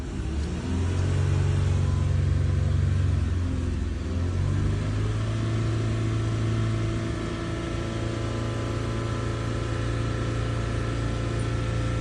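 A car engine idles with a steady, loud rumble, then throttle is applied so the pitch rises and falls briefly before settling back into a sustained hum, with no one talking.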